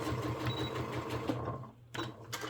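A sewing machine runs close by, stitching a fanny pack seam in a steady mechanical whir, then pauses briefly and restarts in two short bursts.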